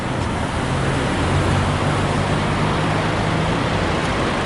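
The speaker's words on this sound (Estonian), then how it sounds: "Juba tihe liiklus on siin bussid ja" Dense street traffic with buses near BMW Welt in Munich forms a constant, loud roar of engines and tyres, with a low idling bus drone steady underneath throughout.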